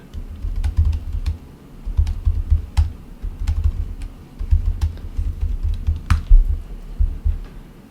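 Typing on a computer keyboard, a steady run of close, soft key taps with short pauses between bursts and one sharper click near the end, with no talking over it.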